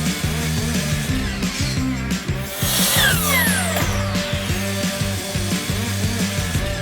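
Power saw cutting through two stacked wooden 1x4 boards at once, a loud buzzing rasp with a rising whine partway through, the blade noise continuous and close for several seconds.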